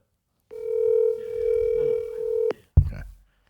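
A phone call rings after dialing: one long, steady ringback tone for about two seconds, cut off abruptly, then a short burst of handling noise.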